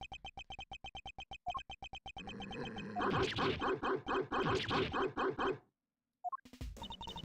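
A dog in a video game, wearing a bell around its neck, gives a quick series of sharp, evenly spaced barks amid electronic blips and beeps. A short burst of game sounds follows after a brief pause.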